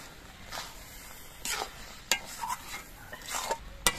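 A spoon stirs mango pickle with vinegar in a pan, giving a few faint scraping and clinking strokes against the metal amid quiet background hiss.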